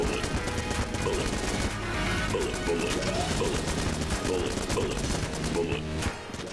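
Dense, continuous gunfire from the video game Enter the Gungeon, fast overlapping shots mixed with game music and effects, steady and loud throughout, under someone talking.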